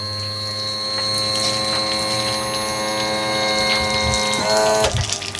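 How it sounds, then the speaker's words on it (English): Fresh water flushing through a Yamaha outboard motor with the engine not running, a steady rushing hum with tonal whine, ending in a few clunks and a shift in flow. "we're going to run fresh water"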